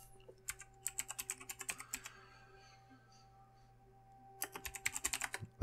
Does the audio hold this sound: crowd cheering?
no